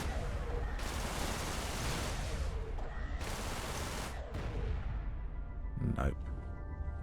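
Space combat in Everspace with containers being shot and bursting into explosions, broad roaring blasts in long bursts with gunfire, a sharp boom near the end, continuous and loud.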